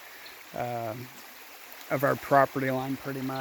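A year-round creek flows over slate in a continuous soft, watery rush that stays in the background while someone talks over it.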